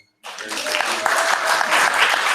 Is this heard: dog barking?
no